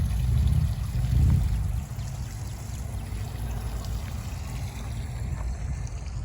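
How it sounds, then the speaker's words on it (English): Steady rushing water pours and splashes continuously, a broad constant roar with a louder burst near the start, from a small waterfall on a scale RC crawler course. "They even have a waterfall you can crawl through."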